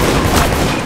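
Gunfire in the game Deceit comes as a loud, dense burst of shots crowded into under a second, close and harsh, with no talking.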